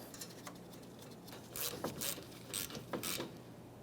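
A ratchet wrench tightens the 10mm mounting nut on an AC condenser of a 2010-2013 Kia Forte Koup, a few short bursts of quick clicking, close and fairly quiet.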